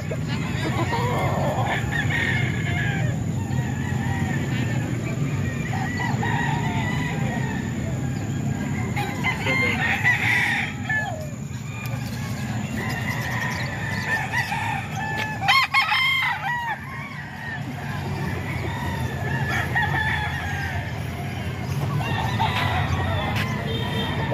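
At a Philippine chicken market in Calumpit, several roosters crow repeatedly over a constant clucking din. Muffled voices talk in the background.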